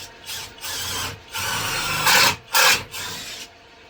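Screw driven into a 2x4 wood workbench frame by a power drill in a workshop, with several short grinding bursts separated by brief pauses, close and fairly loud, no talking.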